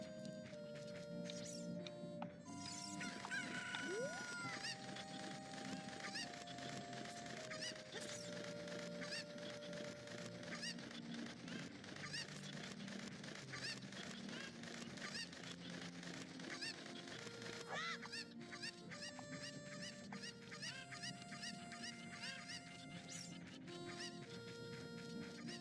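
Chicken clucks from the Zelda Ocarina of Time video game sound repeatedly over busy game music, a string of short squawky calls spread through the whole stretch, fairly faint.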